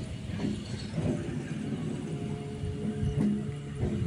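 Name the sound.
passenger train running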